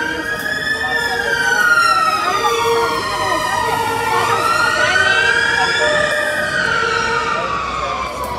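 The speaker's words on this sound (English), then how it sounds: "That was one of the most rarest sirens I've seen in UK." An emergency vehicle siren in Edinburgh, Scotland, wails loud and close, its pitch sweeping slowly up and down in long cycles over a constant roar of traffic.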